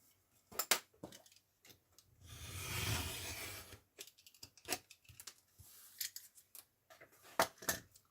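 Scissors cut through paper with quick crisp snips, with a longer sliding cut partway through and then more short snips, close and clear in a quiet room.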